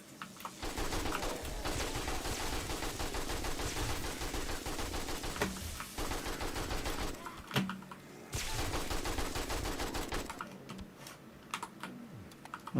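Rapid gunfire in 7 Days to Die as a radiated cop is shot down, a dense, fast-clattering stream of shots running nearly continuously at moderate level, with a few short pauses and no voices.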